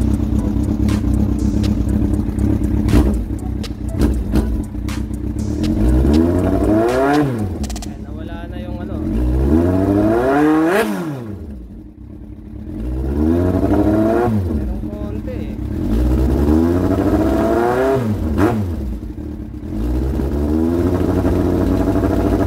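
A Yamaha R1 motorcycle engine being tuned at low RPM, loud and close, idling roughly then revving up and falling back in several repeated swells, with someone talking over it.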